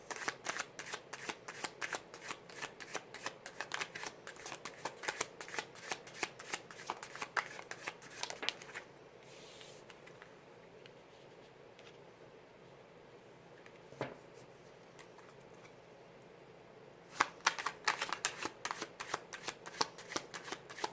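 Tarot cards are shuffled by hand in quick, crisp riffling bursts, quiet and close, with a stretch of near silence in the middle before the shuffling starts again; no one speaks.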